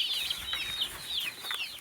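Chicks peeping in a high, repeated chirping chorus inside a chicken coop, close and fairly quiet.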